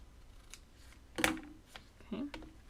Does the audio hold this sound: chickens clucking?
no